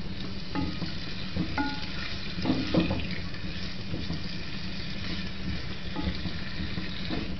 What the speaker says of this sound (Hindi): heated the oil add onion cook till onion light golden और सॉफ्ट